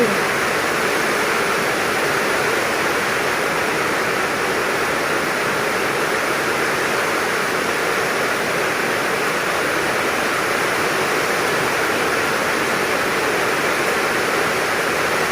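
Heavy tropical rainstorm in Laos, a dense, unbroken roar of pouring rain that holds steady and loud throughout with no pauses.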